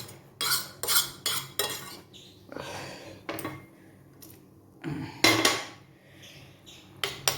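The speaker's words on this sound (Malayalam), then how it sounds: "ഞാൻ പാത്രത്തിലിരിക്കുന്ന പാവയ്ക്ക കൂടി ഒന്ന് തോണ്ടി ചേർക്കട്ടെ." A spoon scrapes bitter gourd curry with dal and tomato from a metal vessel into a pot, producing a series of close, irregular metallic clinks and scrapes separated by short pauses.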